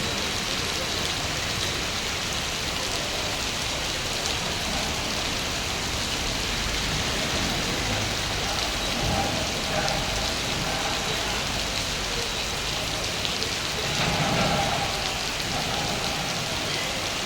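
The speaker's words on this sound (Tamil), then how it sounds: "மதுரையின் பலத்த மழை காலை முதலே தொடர்ந்து மழை பெய்து கொண்டிருக்கிறது" Heavy rain pouring down in Madurai, a loud, dense, continuous hiss of rain on surfaces lasting throughout, with faint background traffic underneath.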